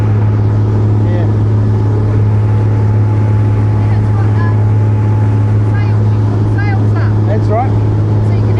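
A water taxi motorboat on Sydney Harbour drones with a steady, loud low engine hum and wind, while people talk over it.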